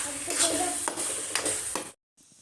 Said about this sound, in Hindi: बस अभी से थोड़ा सा पकाऊंगी, घुमा घुमा के फिर इसका गाजर का हलवा बन